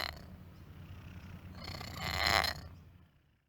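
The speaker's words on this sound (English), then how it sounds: "his signature smoker's purr" A cat's raspy, rough purr, faint and close, rumbles steadily for a few seconds before swelling slightly and fading out.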